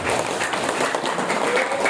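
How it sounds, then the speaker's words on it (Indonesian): Applause from an audience at a village health-volunteer training event in Indonesia, a steady wash of clapping lasting the whole moment with some crowd murmur mixed in. "tepuk tangan."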